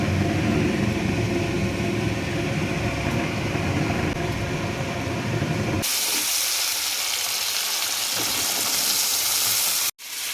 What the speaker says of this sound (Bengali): এই যে এখানে এক বড়িটা ভাজতে ভুলে গেছি, ওই জন্য সাইডে একটু তেলের মধ্যে নাড়াচাড়া করে নিই।